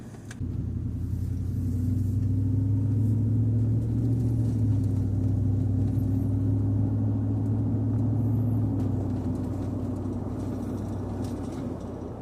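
A car engine held at full throttle during an air-fuel ratio test with an exhaust setup, a loud, steady low drone heard from inside the cabin, sustained for about twelve seconds with no talking.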